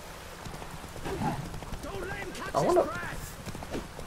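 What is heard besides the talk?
horse hooves clip-clopping in Witcher 3 video game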